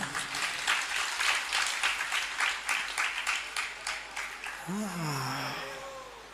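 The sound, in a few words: audience clapping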